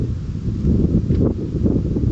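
Gusty wind buffets the microphone, producing a low, uneven rumbling roar that swells and dips over a couple of seconds.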